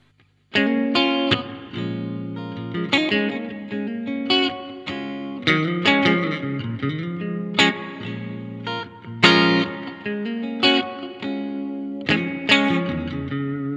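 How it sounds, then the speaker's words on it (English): Electric guitar played through a pedalboard, a reverb pedal at the end of the chain, plays chords and single notes with a light, subtle reverb tail, clean and close, notes ringing briefly after each strum. "Just a nice subtle little reverb."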